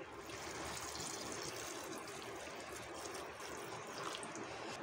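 Water poured over chickpeas in a cooking pot, a steady, faint, even rush of liquid that runs unbroken throughout with no talking.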